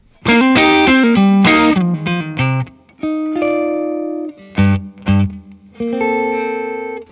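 Electric guitar played through the Strato Pusher effect in the TONE X Double Special plugin, loud and alone: bright distorted strummed chords and sustained notes in phrases with short pauses between them.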